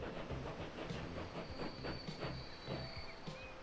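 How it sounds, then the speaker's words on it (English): A train passing in Transport Fever 2, the Frenian Coastal Express, with rhythmic clickety-clack of wheels over rail joints, a steady rolling hiss and brief squeals, fairly quiet and without talk. "we see the third Frenian Coastal Express passing us"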